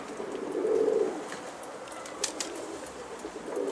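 Pigeons coo softly on a rooftop loft, two low throaty calls at the start and end, with light rustling and faint background noise between.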